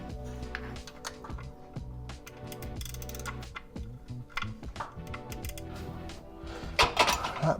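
A ratchet clicks in quick bursts while undoing nuts on a Suzuki Jimny gearbox, mixed with sharp metallic taps and clinks of tools close by, sounding busier and louder toward the end.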